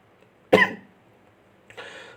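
A single sharp, loud cough, followed about a second later by a softer throat-clearing cough, close up in a quiet room.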